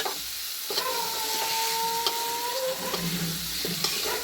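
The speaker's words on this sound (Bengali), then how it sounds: "ভালোভাবে কষে নিচ্ছি" Mango and poppy seed chutney sautéing in a pan gives a steady, close sizzle with soft stirring scrapes, while a faint thin whine hovers through the middle.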